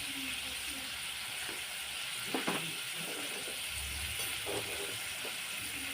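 Mutton curry with turmeric frying in a pan, a steady low sizzle and hiss running throughout with a few faint stirring scrapes, fairly quiet and without talk.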